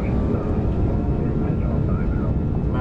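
Jet engines of a SWISS Airbus A340-300 during takeoff from Tokyo Narita, heard from the cockpit: a steady, loud, broadband roar with no break.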